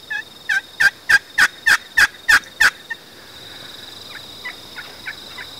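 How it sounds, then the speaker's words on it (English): A wild turkey gobbles far off in a pasture, a rapid run of eight sharp, evenly spaced notes followed by a fainter, more distant string of gobbles answering. "See that other one gobble far off?"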